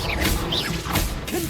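A Confringo blasting spell in Hogwarts Legacy goes off as a short burst of whooshing, crashing impacts, loud and close, over a busy game mix.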